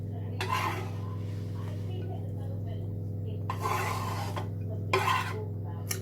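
Coleslaw with lemon juice and green apple being stirred and mixed in a bowl, giving a few scraping, rustling bursts over a steady low kitchen hum.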